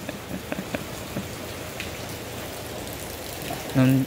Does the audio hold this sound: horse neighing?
no